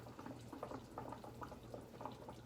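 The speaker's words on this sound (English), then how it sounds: "wait till the boiling stops" Water bubbles and churns at a rolling boil in a pan, a continuous burble of small pops close by, fairly quiet.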